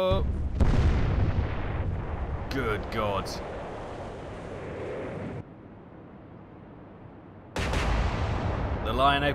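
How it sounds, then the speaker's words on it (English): Naval weapons fire in an Atlantic Fleet battleship battle game plays as loud booming blasts with rumbling decay, fading to a quieter stretch before another heavy burst near the end. "weapons fire."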